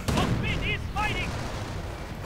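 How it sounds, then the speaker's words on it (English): Raketen half-track rocket volleys in a real-time strategy war game, a few muffled bursts over dense battle noise with chirpy interface tones, close and busy. "And more Raketen from the Raketen half-track."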